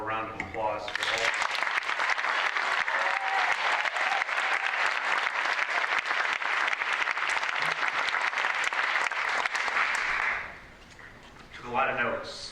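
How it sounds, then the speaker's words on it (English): An audience claps at the 2015 Bailey Oratorical speaking contest at Juniata College, a dense, loud, steady round of applause lasting about nine seconds before fading, with a voice speaking briefly just before it starts and again after it ends. "How about one more round of applause for all?"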